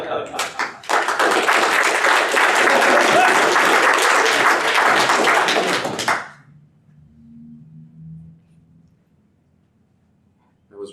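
A conference audience bursts into loud, full applause as a speaker is introduced. The clapping runs strong for about six seconds, then cuts off abruptly, leaving a quiet room with a faint low murmur and a soft tap at the very end.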